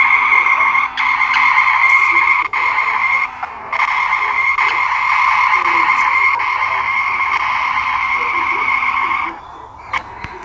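A car in a video game whose engine gives off a raspy, croaking drone, sustained and loud for most of the time with a few brief dropouts, fading near the end.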